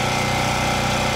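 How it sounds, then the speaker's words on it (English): A construction-grade open-frame gasoline generator runs with a loud, steady, rumbling engine drone, close by and unbroken. "you could break out the construction-grade open-frame generator"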